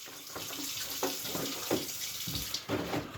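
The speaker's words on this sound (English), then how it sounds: "The water will now fill into the jug." Tap water runs steadily into a jug, a continuous splashing hiss with small gurgling bursts as the level rises, close and moderately quiet.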